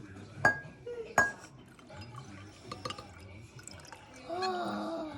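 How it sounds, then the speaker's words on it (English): Liquid is poured into a cup during a red cabbage pH experiment, with glassy clinks early, trickling pours and a splashy pour near the end, amid people talking. "Keep pouring."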